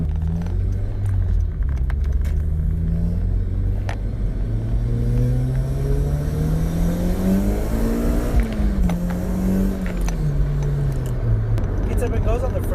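A 2013 Honda Civic Si on the freeway, steady engine drone rising and falling in pitch as it accelerates and shifts, over constant road and tyre rumble, with a person talking throughout.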